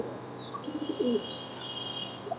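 Faint, low cooing from a yellow Lahori pigeon pair offered for sale, heard briefly in the middle of an otherwise quiet stretch with light background hiss.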